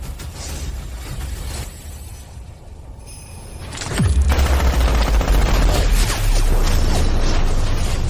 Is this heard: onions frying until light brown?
no